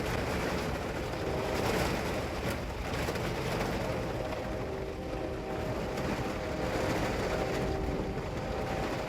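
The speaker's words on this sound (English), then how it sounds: "I hear the train horn again now." Distant train horn carrying through steady outdoor rain, faint sustained tonal blasts sitting under a dense constant hiss of rainfall, with no talk over it.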